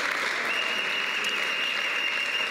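A church congregation applauds during a Sunday service, a dense, steady wash of clapping that holds at an even loudness from start to finish.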